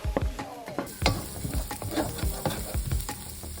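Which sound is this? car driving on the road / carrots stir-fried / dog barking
carrots stir-fried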